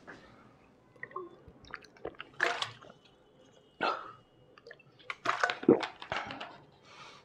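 Someone pausing a physics lesson on cylindrical capacitors to drink water, with close wet gulping, slurping and small liquid clicks in irregular bursts against a quiet room, no speech.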